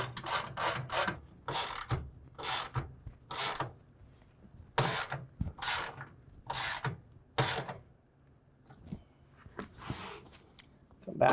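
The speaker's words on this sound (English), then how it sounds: "start tightening down the hardware using a 13 millimeter" A 13 mm hand ratchet tightens the clamp hardware on a RealTruck Ascend rack fitted to a 2024 GMC Sierra 1500, giving a dozen or so sharp, close ratcheting bursts in an uneven rhythm with short pauses between strokes.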